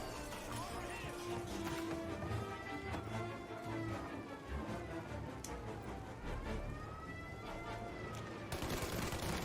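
Gunfire in the Mafia remake video game as a barrel is shot: rapid bursts of shots over a dense bed of game music and effects, with a voice talking over it.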